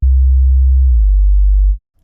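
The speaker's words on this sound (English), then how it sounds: "You're going to start with a sine wave" Synthesized pure sine-wave sub bass tone, a single steady low note held alone for under two seconds, dipping slightly in pitch partway through before cutting off cleanly.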